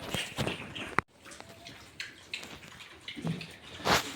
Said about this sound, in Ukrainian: лишня вода розливається